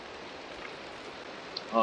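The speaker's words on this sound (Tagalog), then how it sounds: "At ito yung shower natin, automatic shower." An automatic shower runs in a Minecraft bathroom, a brief, even hiss of falling water with no pauses, fairly quiet and constant.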